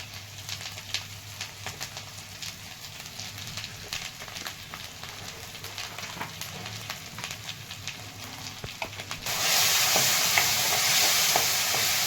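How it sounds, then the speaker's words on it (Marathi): Masala mixture stirred and sautéed in oil for a spicy drumstick curry with black masala, close sizzling with frequent spatula scrapes, then a louder hissing surge near the end as the sizzle intensifies, no speech. "मिश्रण सगळं मिक्स करून घ्यायचं आणि थोडंसं तेल सुटेपर्यंत चांगलं परतून घ्यायचं."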